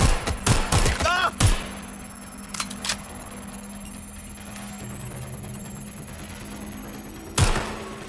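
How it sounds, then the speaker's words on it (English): A few sharp gunshots crack near the start in Watch Dogs Legion, followed by a low humming lull and one more loud shot near the end, with brief voices early on. "Shots fired!"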